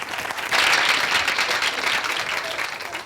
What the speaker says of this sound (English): we can give them applause